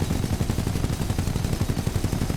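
Rapid, continuous volleys of arc rounds firing in a one-on-one tournament video game, dense and loud with a steady stuttering rhythm throughout and no talk.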